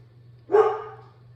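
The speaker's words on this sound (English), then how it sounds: "sounds like the dog wants to bark again." A single sharp dog bark, fairly close, rising out of a steady low hum and trailing off quickly.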